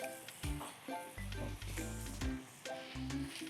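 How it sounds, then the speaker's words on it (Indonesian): Spices with bruised lemongrass and lime leaves sizzle softly in a pan while people talk over the cooking almost throughout. "Si rempahnya ditumis."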